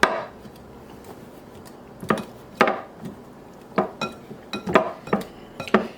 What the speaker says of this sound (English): I'm going to just chop it up a little bit. Use our pastry cutter.